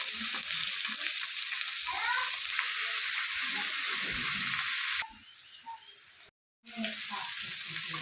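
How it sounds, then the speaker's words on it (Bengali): Onion and carrot fry in a pan while pasta is being made, giving a steady bright sizzle with soft crackles that drops lower partway through, stops briefly, then picks up again. "পেঁয়াজটা সামান্য ব্রাউন করে নেব।"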